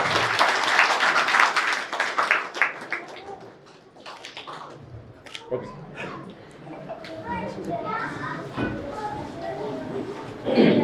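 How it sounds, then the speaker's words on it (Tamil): Applause from the crowd at a village panchayat community hall opening ceremony, a burst of clapping at the start that fades, then scattered claps under talk and background voices, with birds calling. "வளர்த்த கரகோஷம் கேட்டுக்கொள்கிறேன்"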